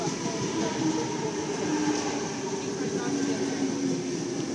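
A Sydney Trains Waterfall-bound train with MSET doors pulls into Como station, its steady rumble and rolling hiss filling the platform, with faint voices nearby.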